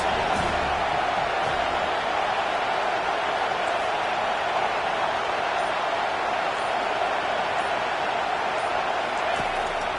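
A football stadium crowd roars steadily behind the Florida State defense on a big third down against the Gators, a broad, sustained wash of cheering that fills the space from start to finish.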